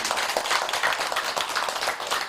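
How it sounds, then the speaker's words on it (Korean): Close, dense clapping from a congregation at a Buddhist memorial service at a temple, welcoming a senior monk; a loud, rapid, continuous burst of many hands with no voices over it. "여러분들 박수 한번 크게 한번"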